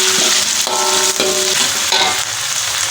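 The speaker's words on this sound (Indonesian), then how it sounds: "setelah minyaknya panas, kita masukin bahan yang sudah diulek tadi. Kita tumis sampai dengan harum ya Bunda." Chili-shallot paste pounded for sambal bawang sizzles loudly and steadily in hot oil, a dense continuous fry with a few stirring scrapes breaking through, close and without any voices.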